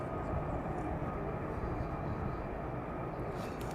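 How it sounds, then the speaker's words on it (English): Several F-35 fighter jets flying overhead during night flying near RAF Lakenheath, giving a steady, broad jet roar that stays constant throughout without breaks. "it sounds like more than one F-35 as well"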